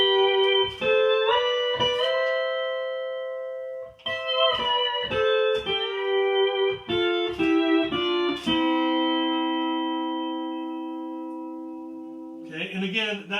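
Pedal steel guitar sounding strings 3, 5 and 6 together as a fat chord, a series of sustained plucked chords in a steady, mechanical exercise pattern, the last one ringing out long before a brief rustle at the end.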